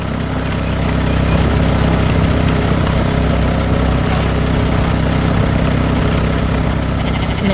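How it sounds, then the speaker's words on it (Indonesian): A green farm machine working a rice field while planting seeds, animated, gives off a steady, loud, low engine drone that runs unbroken the whole time with no talk. "Mesin pertanian hijau sedang bekerja keras di tengah sawah, menanam benih dengan rapi dan cepat."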